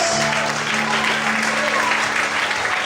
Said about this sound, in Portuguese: dá um glória e aplauda ao Senhor nessa noite